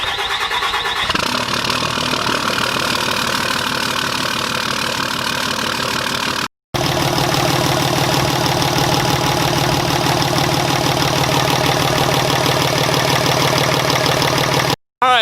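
A 5.9L Cummins diesel starting and settling into a loud, steady idle with an even clattering rhythm, broken by two short cuts in the sound.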